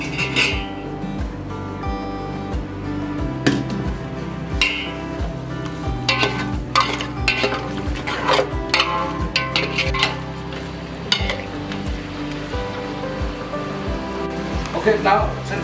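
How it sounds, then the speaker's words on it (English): Mutton sizzles and crackles in a pan while cooking, a steady close frying hiss with scattered pops and occasional stirring, under background music. "now since the mutton is being cooked"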